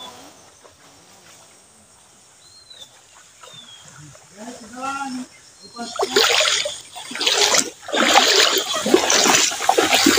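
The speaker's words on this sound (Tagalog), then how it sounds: "So tumatawid kami ngayon sa ano ilog." Water splashes and sloshes as someone wades across a river, getting louder toward the end, with insects chirping faintly in the background.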